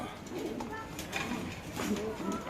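Caged pigeons for sale coo softly and repeatedly in a market setting, their low calls mixed with people talking and steady background chatter.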